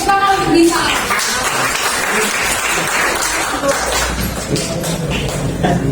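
Hand clapping from a group at a school peace-themed session, a busy, close patter of claps with some thumps and shuffling and voices talking over it.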